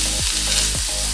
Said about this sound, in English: All the peppers and the onions are gonna go in the pan.